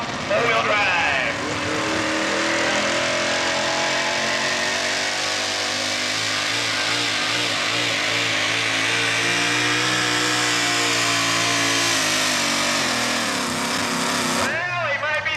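A 6,200-pound modified four-wheel-drive truck, the Buckeye Shaker, roars down a pulling track at an NTPA Grand National event in Fort Recovery, its engine loud and sustained throughout with shifting harmonic whine, announcer talk over it.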